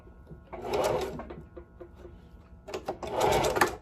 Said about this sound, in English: I'm going to use both hand to control the weft while sewing it